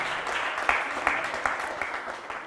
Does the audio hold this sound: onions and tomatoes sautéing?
no